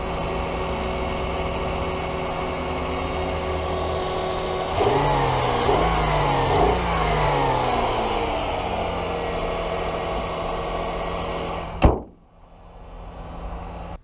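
A car engine runs steadily after starting, a low, even hum that swells briefly with some revving partway through, then cuts off abruptly near the end.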